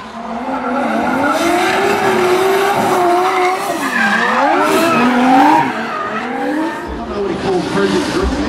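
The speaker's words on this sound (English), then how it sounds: "Kicking off the battle highlights, defending champ Kurt Whitaker taking a win over Kyle Jackaways in the Nexon Tyre 240 SX" Nissan 240SX drift cars battling at a D1NZ drifting championship round in Tauranga: continuous loud tire squeal and skidding with wailing engine revs rising and falling, a commentator's voice running underneath.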